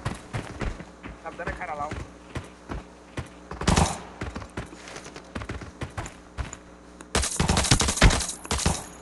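Bursts of rapid gunfire and sharp shots crackling in clusters in the video game Arena Breakout, some loud and close, with occasional voices talking over the action.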